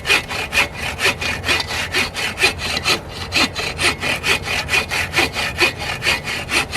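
A hand saw cuts through wood at a winter camp, with steady back-and-forth strokes of roughly twenty passes, rhythmic, close and loud, and no voices.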